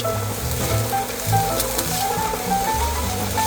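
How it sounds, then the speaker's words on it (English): Chopped onion and garlic sauté over medium heat in olive oil in a single pot, producing a continuous loud close sizzle with faint soft scraping, no talking. "Add the chopped onion and garlic, then saute over medium heat for about 2 to 3 minutes until soft and fragrant."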